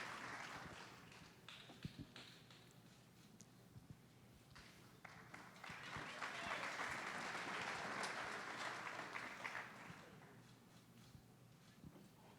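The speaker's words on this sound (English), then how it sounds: "a round of applause for our Girls Athlete of the Year finalists and our winner" Audience applause fills a sports awards ceremony hall, a sustained wash of many hands clapping that swells in the middle and continues steadily for several seconds, heard alone without speech.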